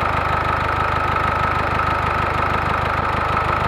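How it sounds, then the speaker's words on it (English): A 2008 Jeep Wrangler JK with the 2.8L CRD diesel engine idles steadily, a loud, even mechanical clatter with a rapid regular knocking pulse and constant drone throughout. "You can start the engine, top your coolant and recheck everything."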